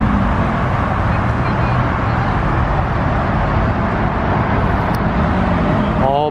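A Lamborghini Urus and a Rolls-Royce Cullinan pull away from a car meet, heard as a loud, steady wash of engine and road noise with no distinct revving.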